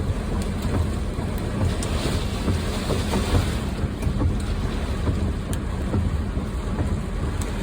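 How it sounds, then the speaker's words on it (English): Strong wind roars steadily and loudly across a cul-de-sac lined with small young trees, buffeting the microphone with continuous low rumbling gusts for the whole stretch, with no voices. "the wind's coming from my left"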